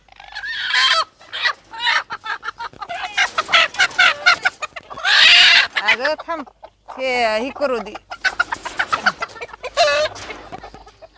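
Hens cluck and squawk in bursts as they are released one by one from their coop in the morning, close and lively, with a voice speaking between the calls.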